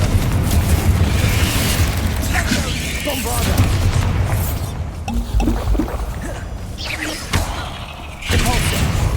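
The Bombarda explosion spell goes off in Hogwarts Legacy, deep booming blasts and rumbling impacts over a dense layer of game effects, with a voice calling out spell names.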